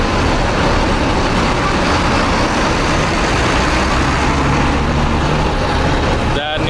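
Large bus engine idling and rumbling at a crowded Surabaya bus stop, a steady low drone with busy traffic and crowd noise throughout, and voices in the background.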